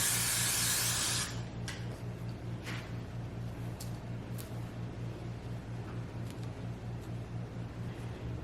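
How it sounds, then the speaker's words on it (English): Hair holding spray bursts from a can onto hair in one loud, close hiss lasting about a second, followed by faint scratching of a comb against a steady low background hum. "take my holding spray and a comb and just spray my leave out"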